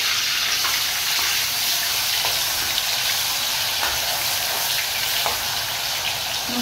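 Onion, chili and garlic paste frying in hot oil for Agri-style misal, giving a steady, close hiss and sizzle with faint crackles throughout and no talking.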